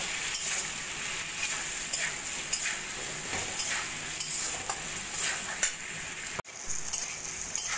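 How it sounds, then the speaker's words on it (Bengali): Potatoes fry in a pan with salt and turmeric, a continuous close sizzle broken by repeated scraping and clinking of a spatula as they are stirred. "নুন, হলুদ দিয়ে আলুকে আমি খুব ভালো করে একটু ভাজা ভাজা করে নেব"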